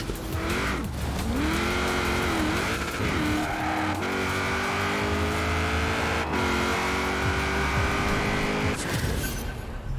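Ford Transit van driven in Forza Horizon 4, its engine droning steadily with rising and falling revs, gear changes and brief tire squeals, loud and continuous throughout with no talk.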